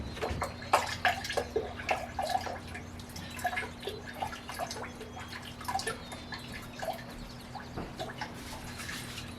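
A zinc-plated part from a Mercedes W109/108 is dipped into a rinse bath of water, producing steady splashing, trickling and scattered drips that continue close by throughout, with no talking.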